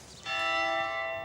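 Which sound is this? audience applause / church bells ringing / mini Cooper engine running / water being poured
church bells ringing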